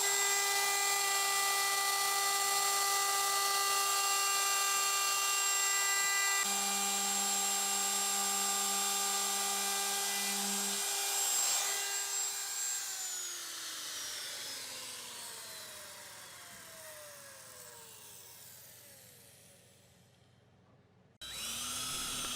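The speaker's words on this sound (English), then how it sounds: "I'm also going to take a chamfer bit in my router and knock all of the corners off." A high-pitched router fitted with a chamfer bit whines steadily while cutting the corners of a workbench, then spins down with a falling pitch, ending in a brief burst of noise.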